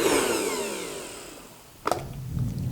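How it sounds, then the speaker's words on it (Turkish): An electric hand mixer whips cream cheese with chocolate, a steady whirring hum that slowly fades, followed by a short clatter and a quieter mixer running again. "mikserle çırpıyoruz"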